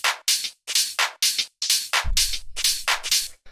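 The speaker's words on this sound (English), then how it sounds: "So I'll play this with the hi-hat and the clap so you can kind of hear." Tech house percussion loop with crisp hi-hat and clap hits, repeating in a steady groovy rhythm, bright and upfront, with a low thump joining partway through; no talking.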